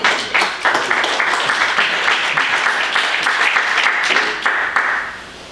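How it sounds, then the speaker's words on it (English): An audience at a trucking company's safety awards banquet applauding warmly, dense sustained clapping that swells at the start and carries on steadily for several seconds before tapering. "So please again give everybody another nice warm applause."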